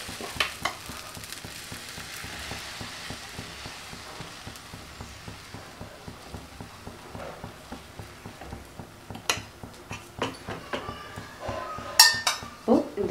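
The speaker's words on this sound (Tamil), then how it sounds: "இப்போ தோசை ஊற்றிக்கலாம்" Dosa batter sizzles faintly on a hot pan amid rhythmic scraping and spreading strokes, with clinks of metal utensils and a voice talking throughout.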